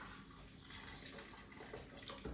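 Hot water at 80 degrees pours steadily from a temperature-control kettle into a cup for ceremonial cacao, a quiet continuous trickle with no voices.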